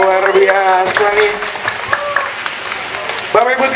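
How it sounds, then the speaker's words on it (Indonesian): Audience applause at a #GerakanBISA gathering comes in as a light patter of clapping, heard beneath a speaker's voice that talks over it from the start and again near the end. "Boleh dong dikasih tepuk tangan sekali lagi."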